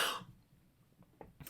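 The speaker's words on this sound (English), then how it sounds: "I have to cough." A single sharp cough comes from someone with seasonal allergies, loud and close at the start, followed by near quiet with a few faint breaths and rustles.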